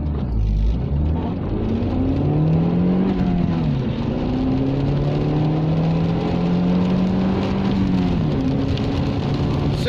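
A Vauxhall Vectra B pulls away from a standstill and accelerates hard, engine note climbing steadily through a gear change with a brief dip before rising again, heard from inside the car under constant road and wind noise.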